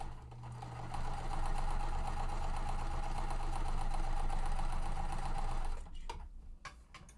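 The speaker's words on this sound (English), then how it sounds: "I'm just going to sew the opposite." A sewing machine runs steadily while stitching quilt pieces for an under-the-sea mystery quilt, a continuous close whir for nearly six seconds before stopping, followed by small handling clicks.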